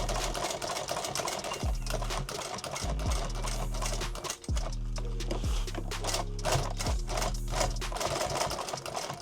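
A sewing machine stitches thick webbing for a modular load-bearing vest in rapid mechanical bursts that run, pause and restart several times, loud and close, with no talking.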